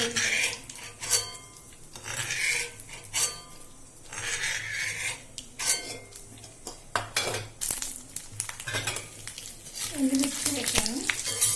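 Ingredients for chukkakura pachadi, a sorrel leaf chutney, sizzling in a hot pan with dried red chillies, the frying steady and close, with spoons scraping and clinking against the metal and someone talking in between.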